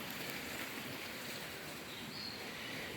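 Small garden stream at a Japanese imperial villa tumbling over a tiny drop like a micro waterfall, giving a steady, even wash of rushing water, soft and continuous with no voices.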